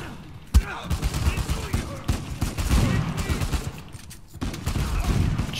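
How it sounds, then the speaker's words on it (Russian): Rapid bursts of gunfire from the video game Uncharted 4, with a shotgun blast among the shots, crackle close and loud through a busy, continuous battle din, with talk faintly mixed in. "Вообще с притыка влупить с дробовика и не убить."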